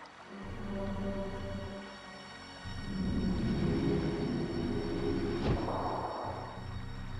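A tram arrives in the adventure video game The Dig, a low mechanical hum and rumble that swells and rolls in, with a sharp click or clank near the end, alone without talk.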